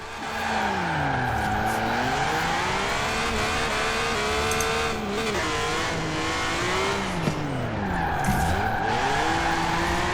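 A BMW Z4 with a six-cylinder engine drifts in Forza Horizon 4, its loud, constant engine note rising and falling while tires squeal without a break for the whole stretch, and no voices are heard.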